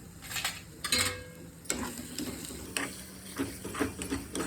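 Eggs being stirred in a pan for four-egg egg bhurji, a spatula scraping and clinking in short bursts over a soft, steady sizzle, close and fairly quiet.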